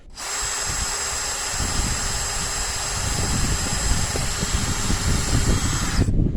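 A power drill bores into a steel bolt with hardened edges, a loud continuous whine running unbroken for about six seconds, starting abruptly and cutting off at the end, with rougher grinding growing in the latter half.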